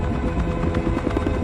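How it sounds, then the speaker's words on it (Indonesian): A helicopter arriving in a Korean action drama thumps with a rapid, steady rotor beat, loud and close, filling the brief moment on its own. "Helikopter penjemput datang."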